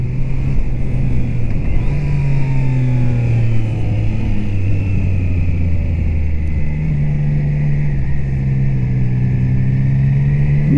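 A Triumph Trident 660 motorcycle's engine runs steadily while riding, its loud, continuous drone rising and falling gently in pitch with throttle changes over a constant wind rush.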